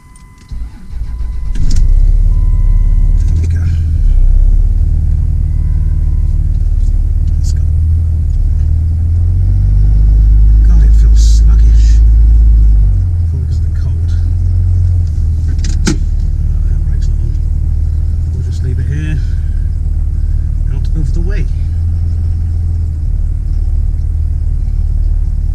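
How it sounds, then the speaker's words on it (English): A Cummins diesel engine idles close by with a deep, heavy rumble that surges louder for a few seconds midway, accompanied by clicks and small mechanical knocks, with no talk over it. "Listen to a nice Cummins diesel engine."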